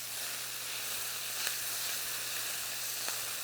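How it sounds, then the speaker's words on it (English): Steady, close sizzling of peppers and onions frying in a hot pan, a continuous crackling hiss with a few brief sharper pops, no voices. "we're just going to heat up the peppers and onions. That's the sound you want to hear"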